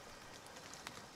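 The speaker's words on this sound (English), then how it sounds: "That's some good rain sound right there." Rain falls in the survival video game Nightingale, a soft, steady hiss of drops, faint and even with a brief sharper splash near the end.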